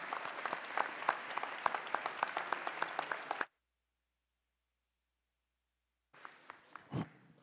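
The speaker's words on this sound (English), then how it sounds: "I'd like to give yourself a huge round of applause for getting into Curry College" Standing audience at the Curry College academic convocation claps with fairly distinct, rhythmic hand strikes, then the sound drops out to silence for nearly three seconds before scattered clapping and rustling resume.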